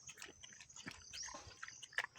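A native pig chews and bites grass nearby, faint irregular crunching and tearing bites with soft mouth sounds at a quiet level.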